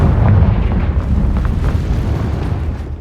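A Confringo spell explosion in Hogwarts Legacy lands as a loud, rumbling blast whose low roar gradually fades over a few seconds.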